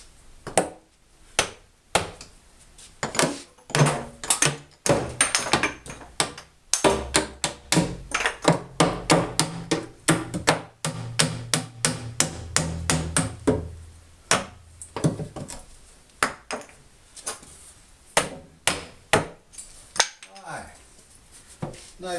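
Sharp, ringing hammer blows knock wedges out of a bowing basement wall, struck close and steady in a long run of evenly spaced impacts before the strikes thin out near the end.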